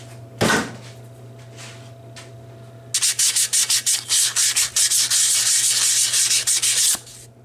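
Abrasive sanding scrapes corrosion galling off a shock absorber part from a 1994 Saab 9000, a brief rub at first and then a run of quick, close, rhythmic strokes that merge into steady grinding before stopping.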